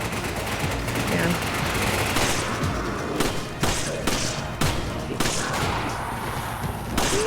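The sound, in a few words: gunfire in a video game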